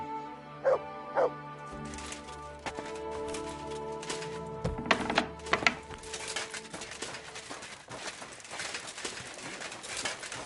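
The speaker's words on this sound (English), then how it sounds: "You silly doggy." A dog barking in the video game Kingdom Come: Deliverance II, two sharp barks at the start followed by game ambience with clattering, footsteps and more scattered barks, no speech.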